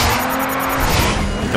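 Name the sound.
race cars drifting in video game Race Driver GRID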